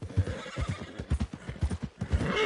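In Red Dead Redemption 2, a horse snorts and whinnies over brisk, rhythmic hoof clopping, the hoofbeats close, loud and evenly paced throughout the short stretch.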